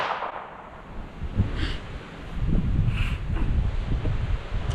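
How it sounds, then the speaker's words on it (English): Breeze gusts across a microphone outdoors, a rough low rumble that swells and eases over several seconds, with brief rustles mixed in. "it is breezy today"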